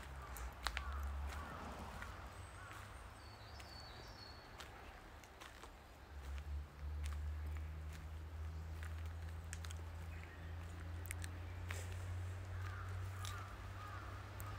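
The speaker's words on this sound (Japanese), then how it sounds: "なんかちょっとは鳥の声聞こえましたかね" Birds call now and then outdoors, crow-like caws over a steady low rumble and light background noise.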